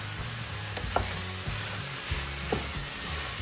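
Garlic, curry and chili fry in a pot for a lentil soup, a steady sizzle with a few distinct scraping strokes of a spoon stirring through, close and loud with no talking.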